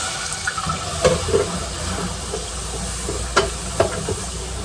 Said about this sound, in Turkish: Bir su bardağı süt de ilave ediyorum.